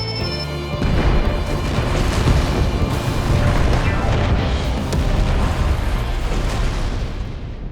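Fireworks boom and burst in a Final Fantasy 14 cutscene, a loud rolling barrage of overlapping blasts that swells after a brief quiet start and then fades out near the end.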